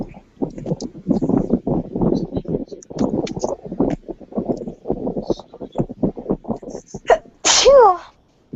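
Several people talk quietly in a classroom during a math class, then one person lets out a single loud sneeze near the end, close to the microphone.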